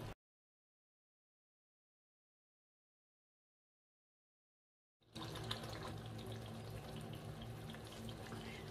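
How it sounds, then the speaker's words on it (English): Water pours into a pot of chicken meatball stew with onions, a steady splashing gush that starts after several seconds of silence and continues loudly to the end. "I'm going to add in more water."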